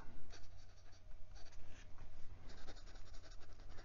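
A steel-nibbed fountain pen with wet, smooth Pelikan Edelstein Sapphire ink scratches across paper, giving a soft, close, continuous scritching feedback in short strokes, with no talking.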